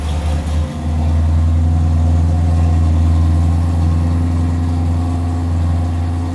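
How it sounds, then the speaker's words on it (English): Exhaust of a 1968 Camaro Rally Sport convertible burbles at idle, a deep steady rumble heard close at the tailpipe, with a slight swell in loudness just after the first second. "Come around and listen to the exhaust."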